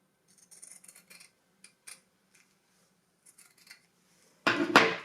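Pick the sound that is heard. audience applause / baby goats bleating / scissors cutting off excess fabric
scissors cutting off excess fabric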